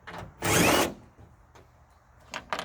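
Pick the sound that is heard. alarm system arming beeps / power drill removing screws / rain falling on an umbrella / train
power drill removing screws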